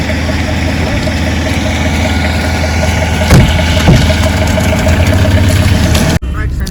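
A car engine idles outdoors in heavy snow at Sonamarg, Kashmir, as a steady low rumble with voices over it. The sound cuts off abruptly near the end.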